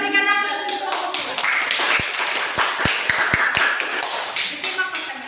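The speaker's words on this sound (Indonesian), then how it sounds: "Kita berikan aplaus untuk kelompok 2" A classroom audience claps for a student group, a loose burst of hand claps and taps in the middle of the clip with a voice speaking around it.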